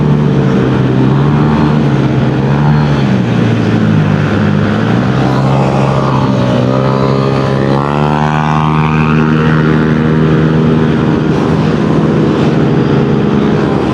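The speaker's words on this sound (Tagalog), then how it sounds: "Lalakas ang motor nila mga buddy oh." Motorcycles on a group year-end ride in Matabungkay, Batangas roar loudly and continuously, engines droning near with rising and falling pitch as they rev and accelerate together.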